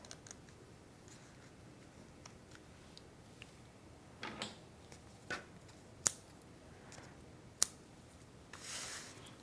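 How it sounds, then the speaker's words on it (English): Scissors trim a ribbon bow already mounted on a handmade stamped card, giving a few quiet snips and sharp clicks against a faint tabletop background. "I'm going to trim my bow now that it's on the card."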